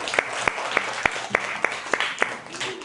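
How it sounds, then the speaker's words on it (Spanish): A group of children clap together in a classroom lesson, giving a round of applause with evenly spaced, sharp claps about every third of a second, fairly close, with some voices mixed in. "Listo, niños, un fuerte aplauso."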